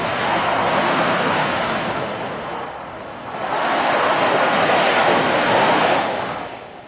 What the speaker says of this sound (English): The sound of the waves and the seagulls makes you feel like you're right there.